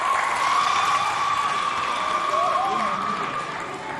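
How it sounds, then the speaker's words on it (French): Audience applause at a celebration of the 63rd anniversary of the Republic of Chad in Fort-Archambault: a steady, dense wash of clapping and crowd noise fills the whole stretch, with a faint sustained tone running beneath it. "Applaudissez bien fort pour vous, s'il vous plaît."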